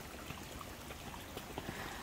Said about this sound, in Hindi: पानी चल रहा है यहाँ पर